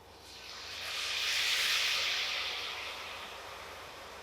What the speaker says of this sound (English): you're going to take the wine, whatever you haven't consumed thus far, and you're going to deglaze your pan